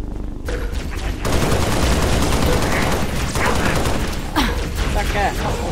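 Hostile gunfire in the video game Halo Reach: a loud, continuous rattle of automatic fire with scattered sharper cracks and game effects, mixed with speech.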